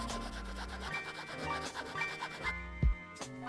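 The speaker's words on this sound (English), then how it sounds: "scuff up the area surrounding the cut. I use a small section of Scotch-Brite pad" A small Scotch-Brite pad scuffing the sidewall of a tire around a cut, heard as soft, close rubbing strokes in a steady rhythm, quiet and with no talking.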